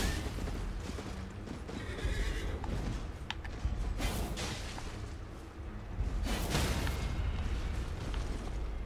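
A horse in the Elden Ring video game whinnies amid game sound effects, with thumps and clattering mechanisms around it and an occasional boom, all fairly close and steady.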